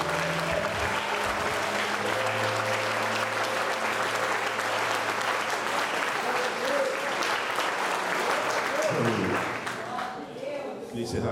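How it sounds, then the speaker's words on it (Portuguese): A church congregation gives sustained, loud applause to God, dense clapping running steadily for about nine seconds with some cheering voices mixed in, then thinning out and fading near the end. "Vamos dar um aplauso ao nosso Deus."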